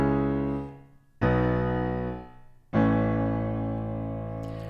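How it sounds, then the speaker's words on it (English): Solo piano playing sustained chords, struck twice more after the first, each ringing out and slowly decaying, close and full-bodied with nothing else heard. "we're going to unmask a piano, which sounds like this by itself."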